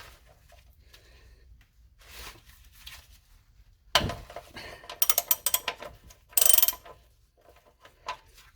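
A 9/16 socket ratchet works on the oil pan drain plug of a 1977 C3 Corvette, with a sharp clank followed by bursts of rapid ratchet clicking amid quiet shop background.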